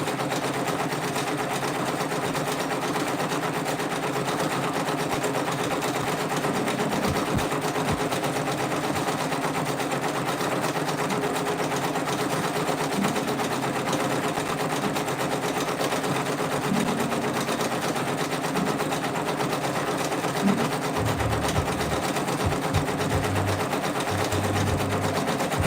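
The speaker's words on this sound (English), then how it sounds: "we are using the Brother Personas to stitch out these designs" A Brother Persona PRS100 embroidery machine stitches out a patch, its steady rapid needle chatter running continuously and fairly loud, with faint background music and a few brief heavier knocks toward the end.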